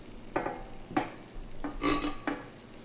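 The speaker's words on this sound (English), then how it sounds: "Let's add some butter." Butter, standing in for ghee, goes into a hot pan for mushroom risotto, giving five short, fairly close bursts of sizzle and scraping spaced irregularly over a quiet background.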